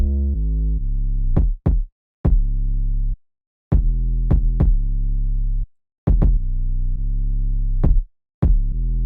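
Soloed kick drum treated with SSL G Channel EQ, the high end boosted near 8K and the low end rolled off, thumping in a loud, irregular pattern of sustained booming hits with sharp clicky attacks, alone.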